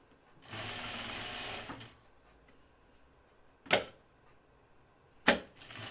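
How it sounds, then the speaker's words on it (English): A home sewing machine stitches a seam on a flight suit in one short burst of a little over a second, followed by two sharp clicks spaced apart in an otherwise quiet room. "So I'm just sewing just to the left of that original easing stitch that we added in there"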